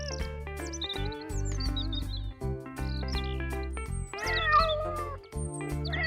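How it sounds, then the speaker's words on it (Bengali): Several cartoon cats meow repeatedly, with overlapping high, wavering calls over a steady low hum, continuous and fairly loud throughout. "এ তো মনে হচ্ছে বেশ কয়েকটা বেড়াল।"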